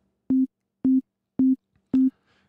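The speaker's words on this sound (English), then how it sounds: "If I go to the patch browser and init, I can get an init sine wave." Init sine wave patch from the Surge synthesizer, played as five short, evenly spaced pure tones at one low pitch, each with a clean start and stop and silence between them.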